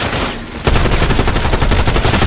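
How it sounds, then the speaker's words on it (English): Rapid gunfire-like blasts during Black Ops 6 Zombies play, a loud dense burst of repeated sharp reports beginning after a brief lull and continuing steadily to the end. "Explosion"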